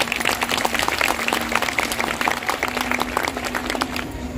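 Audience applause at a school annual function, many hands clapping in a busy crackling patter, moderately loud and sustained, with a steady electrical hum beneath and the clapping thinning slightly toward the end.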